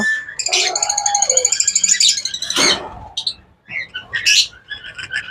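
Pet birds kept for breeding chirping in cages, bursts of rapid high tweets and trilled calls with short gaps between, close and clear, no voices.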